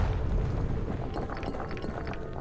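Calamity Cannon firing in the video game Bastion, a deep rumbling blast that swells and decays over a couple of seconds, moderately loud with crackling debris on top.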